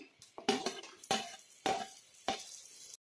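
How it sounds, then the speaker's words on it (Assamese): Raisins, cashews and carrots frying in ghee, close and fairly loud, with a spatula scraping and stirring in four or five rhythmic strokes over a soft sizzle, no voices. "গাজৰ গোটেইখিনি একেলগে দি পেলাই অকণমান ভাজি ল'ম"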